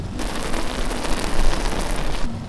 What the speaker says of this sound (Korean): 끓는 소리가 좀 이상한데.